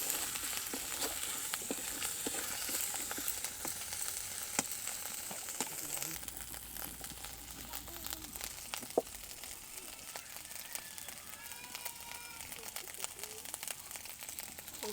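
Rice and berries stirred in a pot over an open fire by Ho Adivasi cooks, a soft continuous sizzle with scraping and crackling throughout, fairly quiet.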